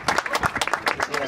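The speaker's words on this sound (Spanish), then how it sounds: "Así que un aplauso para Isabel." Short round of clapping from a small audience at a Romania Day exhibition, individual claps distinct and fairly close, with speech overlapping.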